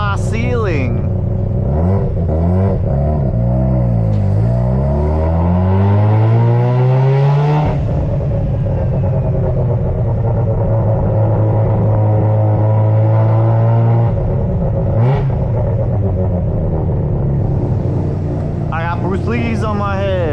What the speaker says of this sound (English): This feels so good to be driving a fun car.